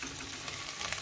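Ginger sizzling and frying in hot coconut oil in a pan, a steady close crackle with faint stirring, no talking.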